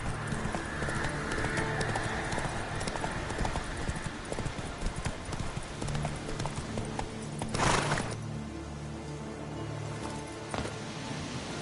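Roach, Geralt's horse in The Witcher 3, runs with a steady, close rhythm of hoofbeats. A short burst that sounds like a snort or whinny comes near the end.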